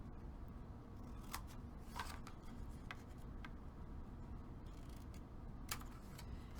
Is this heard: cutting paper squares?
yes